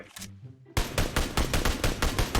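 Rapid bursts of gunfire in PUBG Mobile, about seven loud, close shots in a quick regular rhythm, following a brief musical tone.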